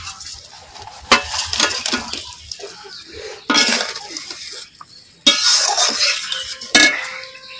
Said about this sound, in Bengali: এবার আমি ভেজে রাখা শিং মাছ আর মাছের ডিম দিয়ে দেব।